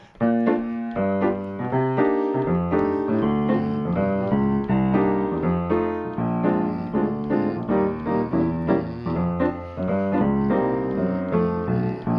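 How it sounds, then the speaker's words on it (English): Solo jazz piano playing rhythm changes chords over a steady bass line that lands on two beats per bar, even and moderately loud, with no voices. "if I played a 2-beat bass line, it would sound like this"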